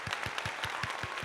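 Rhythmic clapping in an even beat, about seven sharp claps in just over a second, close and moderately loud, with no voices.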